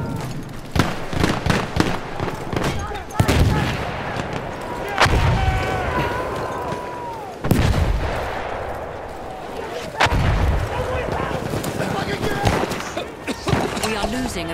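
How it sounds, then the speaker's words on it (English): Grenade blast and gunfire in the video game Battlefield 1, booming explosions and sharp shots recurring every couple of seconds amid heavy battlefield noise, with voices talking underneath. "Tossing a grenade!"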